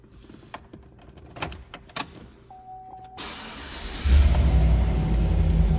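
A 2003 Chevrolet SSR roadster pickup cranks and catches, its engine settling into a loud, steady rumbling idle close by after a few preceding clicks and clunks from the cabin.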